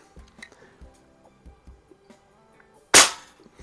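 A Crosman air pistol fires a single sharp, loud crack near the end, preceded by faint handling clicks and light rustling.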